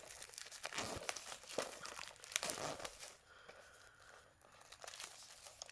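Plastic wrap crinkles and tears off a Blu-ray package, dense crumpling for about three seconds, then softer, quieter handling rustles close by with no one talking.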